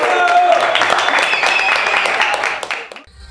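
A studio audience on a television talk show applauds, loud dense clapping that holds steady for nearly three seconds, then quickly fades out.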